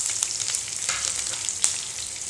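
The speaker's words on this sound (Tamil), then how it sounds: "நல்லா பொரிஞ்சதும் வரமிளகாயும் கருவேப்பிலையும்" Dried red chillies and curry leaves crackle in hot oil for tomato dhal, a bright, dense sizzle with a few sharper pops, close and uninterrupted by speech.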